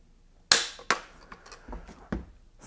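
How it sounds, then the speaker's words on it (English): Dry-fire trigger pull on a B&T SPR300 Pro .300 Blackout rifle fitted with a trigger gauge: one sharp, close metallic snap, then a few fainter clicks and taps of handling. "Let's clear the averages of the gauge. And for our first pull,"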